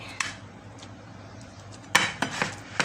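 Cooked sticky rice scooped out to serve, heard as scattered utensil clinks and scrapes against a pot or dish, a few sharp taps clustered near the end over a quiet background.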